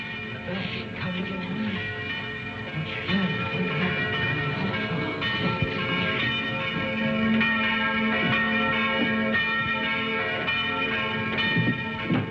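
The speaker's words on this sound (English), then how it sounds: "Did he ring the bell to say the Gauntlet had come home?" A church bell in a 1952 film rings steadily with a sustained metallic tone and ringing overtones that hang continuously across the whole stretch.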